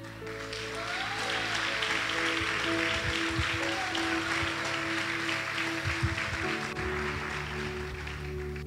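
A church congregation applauds at an evening Sunday service, a steady, dense wash of clapping that holds at a constant level for several seconds, with a low musical drone from keyboard or organ sustained underneath.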